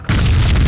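A barrel shot and exploding in a video game: one sudden heavy boom right at the start, close and loud, with a deep rumbling blast that holds without fading through the short moment.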